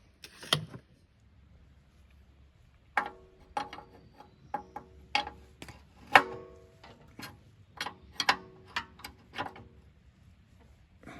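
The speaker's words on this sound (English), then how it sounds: "So I'm going to snug down the nuts." Nuts being snugged down by hand on the engine mount of a Harbor Freight plate compactor, a series of close metallic ratcheting clicks in short bursts with brief pauses between them.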